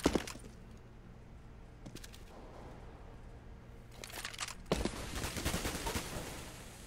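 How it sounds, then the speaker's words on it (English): Rifle fire in Counter-Strike on the Mirage map, sprayed blind through smoke: sharp cracks at the start, scattered shots mid-way, then a dense, loud burst of rapid automatic fire near the end. "Zilkenberg just blind firing through the smoke does manage to take down somebody."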